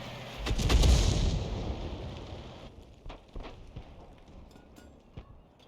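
Tank gunfire in the World of Tanks video game, a heavy booming shot near the start that rolls away, followed by fainter scattered impacts and rumble.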